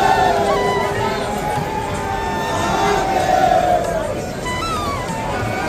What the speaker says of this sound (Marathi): भरपूर गर्दी आहे